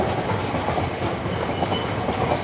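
A freight train carrying cargo containers arrives in the UK, producing a steady, loud rumble of heavy wagons with rhythmic wheel clatter and faint metallic squeals, with no talking.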